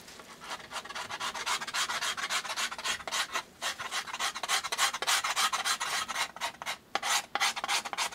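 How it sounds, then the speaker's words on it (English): Scraping varnish from a cracked violin top with a handmade knife: a dense run of rapid, rasping strokes close up, steady and continuous with brief pauses between passes. "I made this knife myself, like this. You can also scrape like this."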